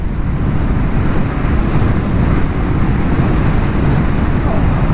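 Steady, loud wind roar blasts the microphone while riding a Maeving RM1 electric motorcycle into a headwind near top speed, a dense continuous rush heavy in the low end with no breaks.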